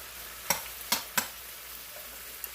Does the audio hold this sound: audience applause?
no